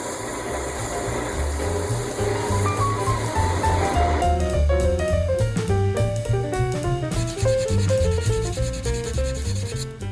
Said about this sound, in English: Now I'm just finishing sanding, sanding up through 320.